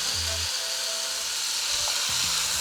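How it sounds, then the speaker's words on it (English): Curry squash mixture with extra curry powder sizzling in hot oil over high heat, a loud steady hiss close up with brief tonal scraping sounds at the start and near the end. "I'm adding my mixture into the oil now."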